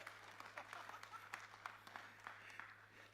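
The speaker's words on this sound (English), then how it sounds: "Clap for him, clap for him." Scattered applause from a small group at a retail franchise summit and award night, a dense patter of hand claps heard at a distance over a low steady hum.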